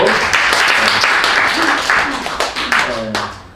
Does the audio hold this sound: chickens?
no